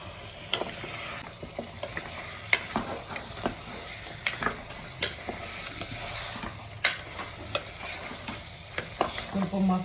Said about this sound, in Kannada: ಸ್ವಲ್ಪ ಮಸಾಲೆನಲ್ಲೇ ಫ್ರೈ ಆಗ್ತದೆ.